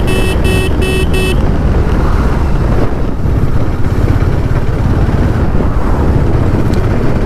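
A Hero Maverick 440 motorcycle engine cruising in sixth gear at about 2000 RPM, a steady low rumble mixed with heavy wind buffeting, preceded by a few brief electronic beeps at the start.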